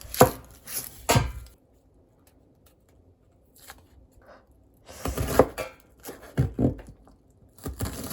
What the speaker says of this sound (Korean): 양파를 썰어줍니다